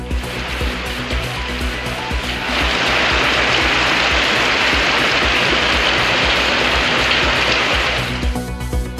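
Heavy sudden summer rain pours down in Erode, a steady broadband hiss that grows louder after the first couple of seconds and holds at full strength before easing slightly at the end, with no voices.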